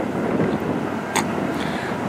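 Steady wind buffeting and rushing over a microphone outdoors at night by railway tracks in Strathroy, a constant roar with a brief gust near the middle.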